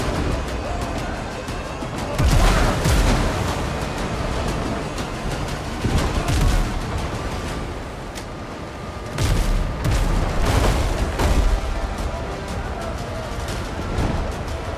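Ship cannons in Windrose fire on the high seas in several heavy booms spaced a few seconds apart, loud and close, set against a continuous rumble of sea and battle noise.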